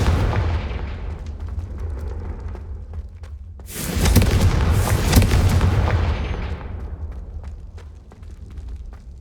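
Confringo fire spells exploding in the Hogwarts Legacy video game, a rumbling blast that swells into a loud, dense burst of booming fire around the middle and then decays into fading crackles.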